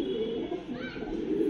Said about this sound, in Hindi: बहुत अच्छा उड़ता है कबूतर ये